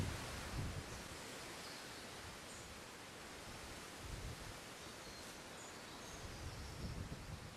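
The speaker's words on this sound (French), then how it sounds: "seul le vent se fait entendre dans les branches des arbres" Steady broadband rustling of wind moving through tree branches and leaves in a French forest, continuous and soft with slight swells, no voices.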